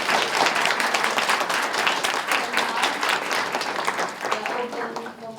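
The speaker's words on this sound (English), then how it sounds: "Let's give our speaker a round of applause." Applause for a speaker at a panel discussion, a loud, dense roomful of clapping that goes on steadily and tapers slightly at the end.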